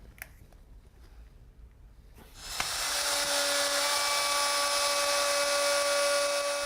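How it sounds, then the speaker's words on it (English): A wood router with a bearing-guided bit cuts along the edge of a board clamped to a workbench, starting after a quiet stretch with a sharp onset, then a loud, steady high-pitched whine that runs continuously to the end. "As I'm making my cut, you can see the bearing following the edge of the board."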